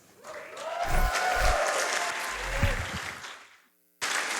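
A live crowd at a charity speedrunning marathon event applauds and cheers loudly for about three seconds, then the clapping fades out before a short gap and an abrupt new burst of sound.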